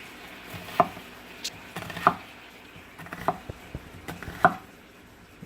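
A knife chops through onions on a cutting board, four distinct sharp knocks spaced about a second apart, close and fairly quiet, with softer slicing taps between them.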